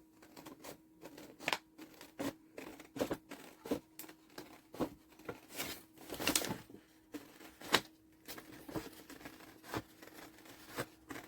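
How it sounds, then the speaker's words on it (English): Scissors snip through paper to cut a doodled circle out of its background, quiet crisp clicks repeating in an uneven rhythm, close by. "So what I'm going to do is cut it away from the background."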